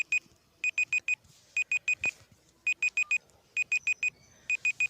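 A countdown timer beeps in rapid bursts of four short, bright electronic tones, each group separated by a brief pause and repeated steadily over faint background hiss.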